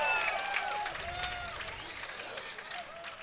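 A crowd at a men's doubles pickleball match applauds and murmurs, a moderate wash of clapping under faint squeaks and court noise that eases slightly toward the end.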